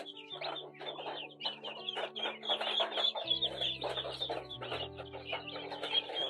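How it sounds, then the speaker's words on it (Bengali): A crowd of newly hatched native (deshi) chicken chicks peeping and cheeping continuously at close range. The calls come as dense overlapping high chirps throughout, with a low hum running underneath, probably from an incubator. "কিছু দেশি মুরগির বাচ্চা উঠেছে 16টার মতো।"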